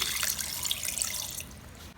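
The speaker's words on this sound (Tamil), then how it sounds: "மட்டன் முழுகிற அளவு வந்து தண்ணி சேர்த்துக்கிறேன்" Water splashes and gushes steadily into a pressure cooker holding mutton, a close, continuous pour that fades toward the end.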